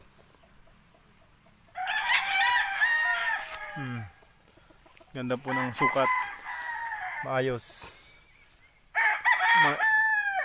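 Roosters bred for fighting crow repeatedly nearby, several loud cock-a-doodle-doo calls breaking up a quiet background, with someone speaking briefly in Filipino between them.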